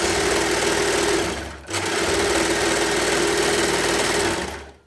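A Brother Lock 2504D overlocker sews in a loud, steady high-speed whir, stopping for a brief moment partway through before running again and winding down at the end.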